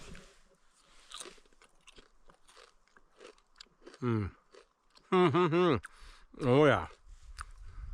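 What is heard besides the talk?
eating a cheese and bacon snack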